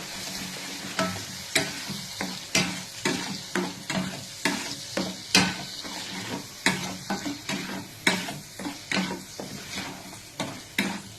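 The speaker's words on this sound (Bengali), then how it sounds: "মশলাগুলো সব দিয়ে দিলাম। দিয়ে এবারে এটাকে একটু নাড়তে থাকবো।" Spices fry in a pan while being stirred, with a steady sizzle broken by rhythmic scraping strokes about once a second, close and fairly loud, with no talking.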